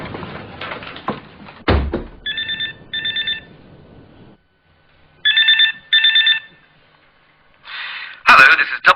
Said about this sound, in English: Now, I'm going in to phone Beryl